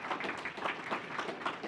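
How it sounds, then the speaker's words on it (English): Faint, scattered clapping from a modest audience at an investment summit finale, rhythmic and distant, quiet throughout with no talk. "Like Mike, Jesse, the whole TNT apparatus deserve a huge round of applause for getting to Summit 10."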